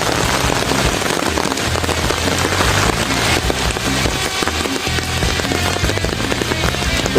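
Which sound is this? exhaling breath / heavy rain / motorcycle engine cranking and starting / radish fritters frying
heavy rain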